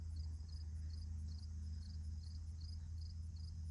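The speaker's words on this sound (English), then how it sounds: "Listen to the birds, and there's some crickets, I hear them" Faint, high-pitched insect chirps repeat in short bursts over a steady low hum and quiet outdoor background.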